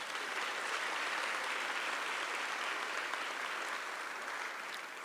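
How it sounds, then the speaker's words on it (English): Steady, dense audience applause at the grand opening of a Fort Worth city council chamber, honouring the builders of the facility, sustained at an even level throughout with no voices over it. "Please give them a round of applause."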